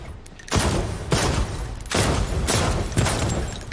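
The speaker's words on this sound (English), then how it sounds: "Is this your first time shooting a firearm?" Firearm shots at a shooting range in a virtual reality spy game, four loud gunshots spaced roughly half a second to a second apart, each with a short ringing tail, and no talk over them.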